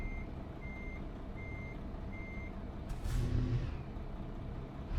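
Steady electronic reversing beeps from a truck in American Truck Simulator repeat evenly over a low engine rumble, with a short hiss like an air brake releasing midway.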